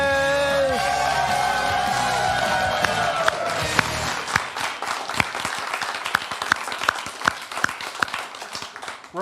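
A live audience breaks into clapping as opening piano music fades out, the applause starting thick and then thinning into scattered close claps.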